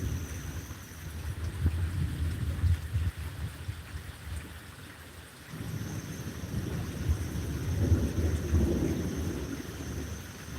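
A thunderstorm brings low, rolling thunder that swells, fades and builds again over a steady wash of rain, with no voices.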